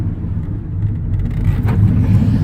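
Massey Ferguson GC 1710 sub compact tractor with backhoe loader, its small engine idling close by with a steady low chugging rumble that rises slightly midway, with faint clanks over it.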